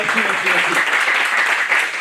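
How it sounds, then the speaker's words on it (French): A stand-up comedy audience in Muret claps briefly, giving a short burst of scattered applause while a voice keeps talking over it. "allez, applaudissez, tout va bien"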